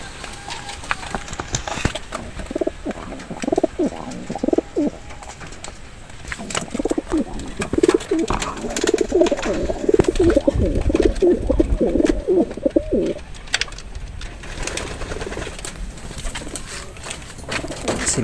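Breeder racing pigeons cooing in a loft, soft repeated rolling coos with a busy stretch of overlapping calls in the middle, set against rustling and light background noise.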